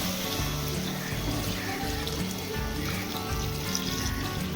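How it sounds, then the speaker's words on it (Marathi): Hot water poured into a pan of cooking mutton, a soft steady splashing pour heard close and alone for a few seconds. "आता आपण ह्यामध्ये गरम पाणी टाकायचं"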